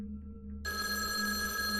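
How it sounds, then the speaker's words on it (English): A telephone bell kicks in abruptly after a quiet low hum in a night-time motel office, ringing shrill and continuous at close range over a faint background drone. "When the phone rang, the sound pierced the silence like a blade."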